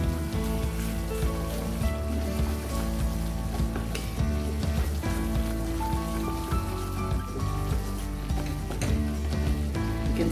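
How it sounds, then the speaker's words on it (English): Chickpeas with chana masala sauté in a pan for a no-onion, no-garlic dish, sizzling steadily and densely up close with light stirring scrapes throughout. "We have to saute this continuously because you have added chana in this."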